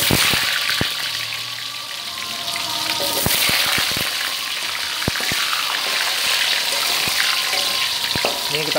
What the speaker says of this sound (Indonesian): Oke, kita akan goreng kentang.